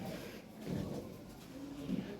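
Lahore Siraji pigeons coo softly and low in a quiet space, with two slightly fuller murmuring swells near the middle and the end.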